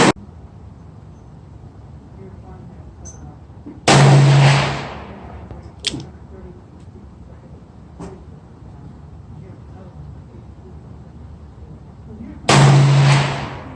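Two loud, sharp revolver shots from a Smith & Wesson Model 19-5 firing Georgia Arms ammunition outdoors, spaced about eight seconds apart, each with a short decaying echo over quiet background noise.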